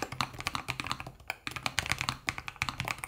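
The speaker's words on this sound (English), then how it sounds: "and it's got PBT plus PC double-shot keycaps, and Lofree's new low-profile mechanical cloud series switches" Rapid typing on a Lofree Flow 2 low-profile mechanical keyboard with PBT plus PC double-shot keycaps and cloud series switches, a steady run of crisp close-up clacks with a brief pause midway.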